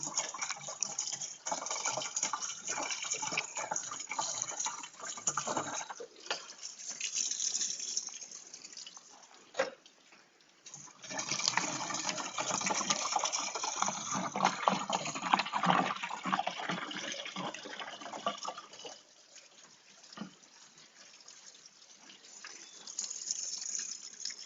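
Warm water from a gallon jug is poured to rinse out the washer fluid reservoir of a Ford F150, a steady gushing and splashing flow with brief pauses, close and fairly quiet.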